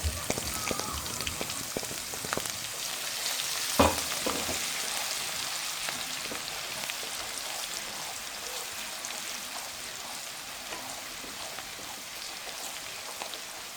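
Bhindi masala with chili, ginger and turmeric frying in a pan, a soft, continuous crackling sizzle with a few sharper pops and stirring scrapes early on, fairly quiet and steady.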